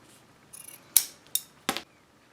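Scissors snip through folded parachute cord in a few quick, close cuts, three or four crisp separate snips with brief pauses between them in an otherwise quiet room.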